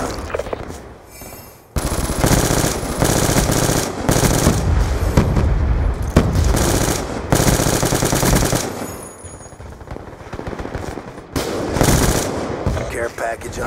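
Rapid automatic gunfire and bursts of shooting from Call of Duty Black Ops II multiplayer come in loud, dense volleys with short pauses between them. Game voice announcements play alongside the shots.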